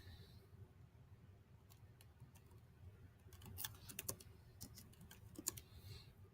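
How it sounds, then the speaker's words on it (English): Keystrokes on a computer keyboard typing a search term, a quiet irregular run of light clicks that quickens into a denser burst, ending in a sharper tap like the enter key, close by with no talk. "I type in Civil War and I hit enter"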